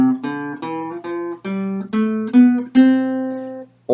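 A major scale played on an instrument, one clear pitched note after another, each note distinct and ringing, rising step by step to a final sustained tone, heard alone.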